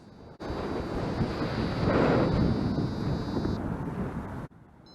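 Strong headwind buffets the microphone during a paraglider landing, a loud, steady roaring rush that starts abruptly and cuts off near the end, with a faint whistling tone partway through.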